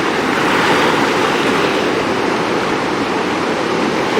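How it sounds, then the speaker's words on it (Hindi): Fast, high river water rushing past near Rishikesh, a loud steady roar of churning waves and spray that fills the scene with no breaks, close by and heard alone. "पानी का लेवल बहुत ज़्यादा है और वेव भी बहुत स्पीड में जा रही है इधर"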